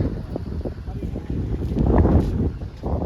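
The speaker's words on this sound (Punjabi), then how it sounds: "ਆਪਣੇ ਹਵਾ ਚੱਲਦੀ ਹੈ ਬਹੁਤ" Strong wind buffets the microphone in rough, gusty rumbles, swelling louder midway, with a voice talking underneath.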